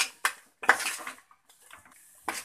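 A spoon scrapes and clatters in a pan as ground coconut masala and chilli powder are stirred into a homemade fish curry, in short close bursts separated by quiet gaps.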